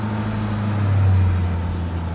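A sports car engine fires up and settles into a smooth, steady idle, close by, with a slight swell in loudness partway through and no talking.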